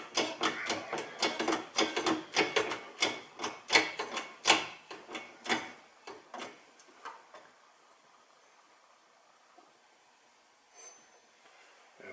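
Rapid sharp metallic clicks and knocks from pressing a wheel bearing bushing on a Subaru WRX STi rear wheel, a fast irregular rattle for several seconds that then thins to a few faint taps.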